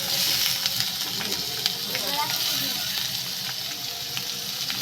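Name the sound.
potatoes frying in pan with onion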